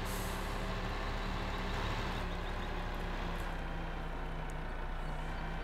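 A truck braking in the Farming Simulator 2015 game, set in the Alps, with a steady loud engine rumble and a hissing air-brake release, no talking.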